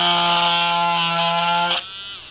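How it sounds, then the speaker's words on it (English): A steady high-pitched whine of a small carbide drill cutting into windshield glass close up, cutting off abruptly near the end and leaving a quieter hum. "To run the drill, start it running, take it down and drill a little notch"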